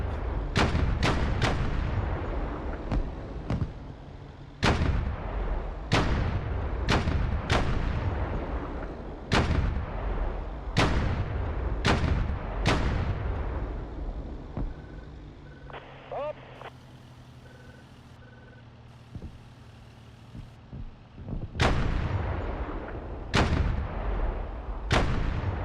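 A 105 mm artillery gun in the DCS World combat simulator fires a rapid series of sharp, loud booms, some doubled, then pauses before firing again near the end, while faint engine rumble and talk continue underneath.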